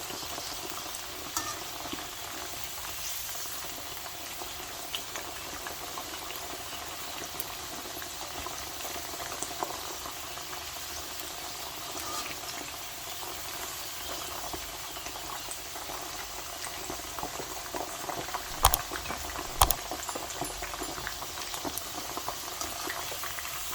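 Chicken pieces frying in hot oil in a kadai, a soft, steady bubbling sizzle heard close and continuous with a couple of brief clinks, no voices.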